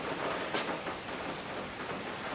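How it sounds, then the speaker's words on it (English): Steady afternoon rain in Thailand falls and patters on surfaces, an even, continuous hiss with no voices or other sounds. "Time for our daily afternoon rain."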